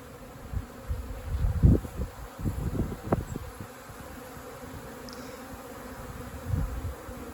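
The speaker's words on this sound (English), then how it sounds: "The other hives are becoming much more active." Native honeybees around hives during a bee rescue in Mallorca, Spain, a low buzzing hum that swells and fades as bees fly close to the microphone, with quieter background droning.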